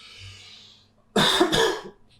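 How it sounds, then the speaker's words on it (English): A person coughs twice in quick, harsh succession at close range, loud against a near-silent room with only a faint hum beforehand. "sorry for the cough"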